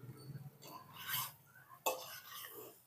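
Spices being stirred into chicken fry in a pan: soft scraping and clinking of a utensil against the pan in a few short strokes, quiet and close, with faint murmuring underneath.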